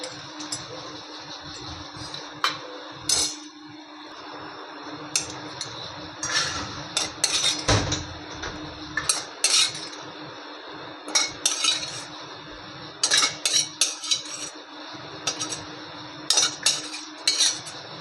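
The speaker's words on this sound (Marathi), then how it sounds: "मी काढून घेते या वाडग्यामध्ये." Utensils clink and scrape against a pan and bowl as cooked prawns in an oil-and-onion gravy are served out, in scattered sharp metallic taps and short scraping bursts that come and go.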